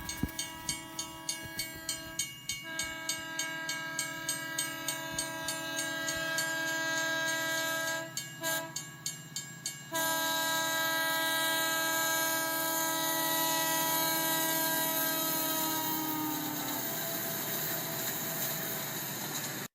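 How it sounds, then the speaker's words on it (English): Train sound effect: rhythmic clickety-clack of railcars rolling along the track, then a loud, sustained multi-tone horn blast that holds for several seconds before fading out. "So hop on board the Gigi Forever 29 train for another exciting episode."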